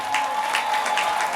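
A congregation at a pilgrimage bursts into steady, close applause, a dense patter of many clapping hands lasting just over a second, with a faint sustained tone beneath it.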